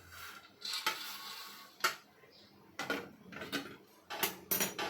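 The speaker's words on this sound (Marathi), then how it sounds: "डाळ्या पण चांगल्या भाजून घ्यायच्या" Roasted dalia (split chickpeas) being stirred in a pan while making poha chakli: irregular scraping and rattling strokes of a spoon against the pan, fairly close, with bursts of stirring and no talking.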